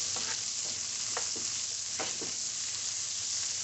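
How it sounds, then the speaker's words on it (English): Food sautés in butter blended with thyme and oregano in a pan, giving a steady close sizzle broken by a few short scraping stirs. No one speaks. "I'm gonna get those cooked up, sauteed really good."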